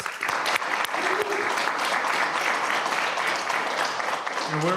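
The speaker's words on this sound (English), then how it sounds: "I just think that deserves a big round of applause" Audience at a school district board meeting gives sustained applause, a continuous broad clatter of many hands at steady volume, with a few voices murmuring underneath.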